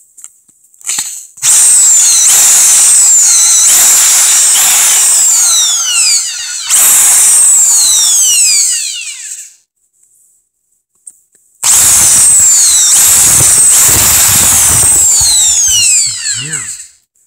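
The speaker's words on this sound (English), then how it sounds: "So we'll drill a hole down the middle." A power drill bores a hole down the middle of a piece, whining loudly in two long bursts separated by a short pause, motor pitch shifting as it bites in.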